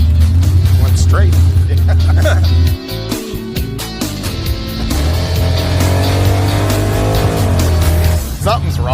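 A crew cab Chevelle's engine drones loud and close as the car runs and drives, revving and dipping briefly before surging again, with people talking over it.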